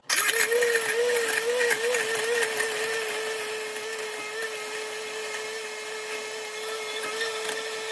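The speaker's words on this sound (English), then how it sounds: "Now I'm gonna plug my blender in." A loud, continuous blender whir as it crushes ice runs for the whole stretch, its motor pitch steady with a gritty grinding texture throughout.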